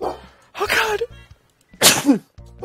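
A person sneezes loudly and close by, and a voice exclaims just before it.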